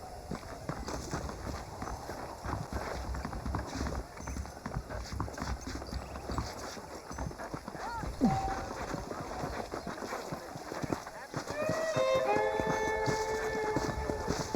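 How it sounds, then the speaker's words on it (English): Horse hooves clip-clopping at a steady walking rhythm in the video game Red Dead Redemption, running continuously over an ambient game background, with a few brighter tonal game sounds near the end. "The horses are saddled up over here."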